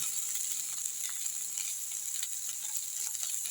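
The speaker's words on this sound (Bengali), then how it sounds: "এখানে বানাচ্ছি আলু পেঁয়াজ রসুনগুলোকে কুচিয়ে দিয়েছি সব কিছু দিয়ে একটা সুন্দর ভাজা" Chopped potato, onion and garlic fry in a pan with a constant bright sizzle of hot oil, close and even, with faint stirring scrapes throughout.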